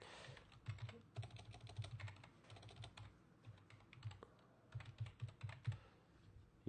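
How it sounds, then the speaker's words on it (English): Quick clattering keystrokes on a computer keyboard while an email address is entered, fairly faint and close, coming in irregular bursts with short pauses and no talking. "You type in their info"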